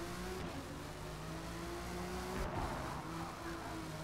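Race cars in a pack in Forza Motorsport, engines droning steadily with layered revving tones and a faint tire squeal, fairly quiet and constant without speech.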